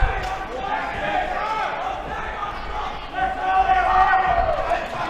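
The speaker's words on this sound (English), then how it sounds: "Listen to this crowd." Crowd at an MMA fight roaring and cheering, a dense continuous swell that surges louder toward the end, with a commentator talking over it.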